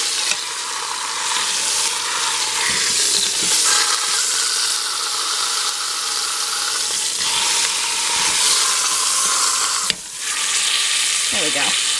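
Pork loin sears in an Instant Pot, a steady loud sizzle and frying hiss running throughout with faint stirring scrapes and a brief dip near the end.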